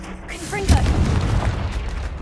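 Confringo blasting spell in Hogwarts Legacy bursting into a single deep boom with a rumbling tail, following a brief spoken voice just before the blast.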